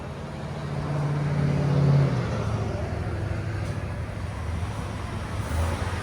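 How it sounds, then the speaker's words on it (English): A 2017 GMC Yukon XL's 6.2L V8 idles through its stock exhaust, a deep, steady rumble low and even, with a slight swell partway through and no voices. "This is what it sounds like before."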